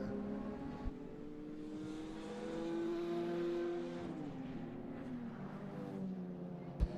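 Modified Ford race cars run at Mondello Park, a steady distant engine drone rising and falling as cars rev past, with a couple of sharp knocks and no talk.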